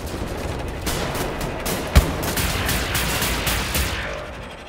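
Rapid gunfire from a weapon in the video game Wolfenstein: The New Order, a dense steady barrage of shots with one sharper crack midway, loud and continuous.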